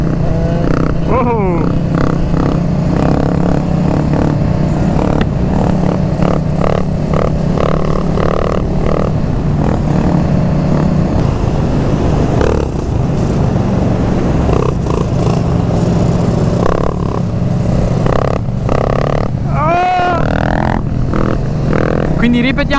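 Motorcycles riding together, a carbureted TM125, a KTM 530, a Yamaha MT-07 and a fuel-injected TM125, their engines droning and revving steadily under wind noise while a rider talks throughout.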